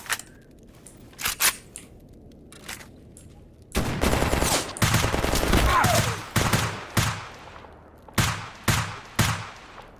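Gunfire in the video game Escape From Pripyat: a few scattered single shots, then a sustained automatic burst, then a rhythmic string of separate loud shots, all sharp and close, with no talking.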